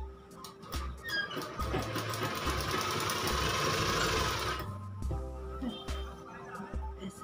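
A sewing machine stitches a ladies' shirt in a loud, rapid burst of stitching lasting a few seconds. Short clicks and slower partial runs come before and after it.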